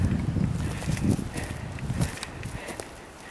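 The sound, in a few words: wind gusting on a mountain trail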